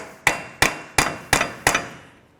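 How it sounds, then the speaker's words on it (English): Hammer striking a punch set in the center hole of a front axle on a 2002-2009 GMC Envoy hub, five sharp, evenly spaced metallic blows that ring briefly after each hit. "take a punch, take a hammer, go right in this center hole"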